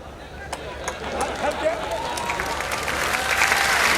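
An audience at a comedy show applauds, a rising patter of clapping that builds from scattered claps into a fuller wave, with voices murmuring underneath.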